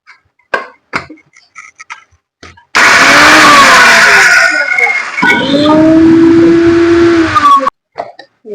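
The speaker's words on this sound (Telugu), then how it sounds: "మిక్సీ పట్టేస్తాను" A kitchen mixer grinder runs on garlic, a loud steady grinding roar that lasts about five seconds and then cuts off, with speech before and after.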